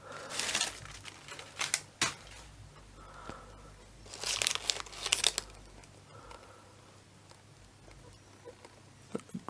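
Newspaper packing inside a guitar case crinkles and rustles faintly and up close, in irregular bursts of crumpling and tearing-like crackle with quiet gaps between them.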